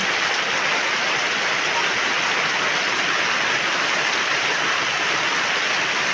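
Heavy rain pours down outdoors, a dense, unbroken roar of drops hitting surfaces that stays loud and even throughout.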